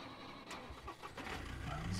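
A car engine starts up inside the survival video game Scum, a brief mid-pitched crank and catch that settles into a low rumble toward the end, heard fairly faintly beneath game ambience.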